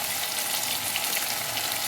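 A mashed banana flower and potato paste mixture frying in a pan, giving off a steady, even sizzle with no voices.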